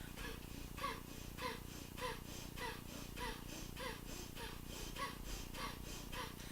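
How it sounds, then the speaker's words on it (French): Breath of fire: continuous forceful exhales through the nose in a steady rhythm, roughly two sharp puffs per second, close and fairly quiet, with no speech. "Expire par le nez de manière continue en gonflant le bas de ton ventre."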